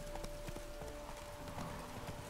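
Rapid rhythmic hoofbeats clatter steadily, a horse at a gallop in The Witcher 3: Wild Hunt, over a dense continuous background.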